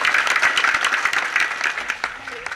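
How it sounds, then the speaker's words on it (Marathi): A crowd applauds at a Marathi kirtan, dense continuous clapping filling the space and slowly thinning toward the end, with voices faintly audible underneath. "जोरदार टाळ्या वाजवा"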